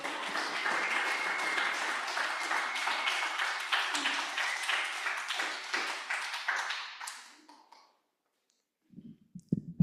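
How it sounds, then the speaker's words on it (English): Warm round of applause from a poetry reading audience for a poet and playwright, dense steady clapping for about seven seconds that thins and fades out, followed by a brief pause and a few scattered sounds. "Let's give a big warm round of applause for poet, playwright Drew Pissarra"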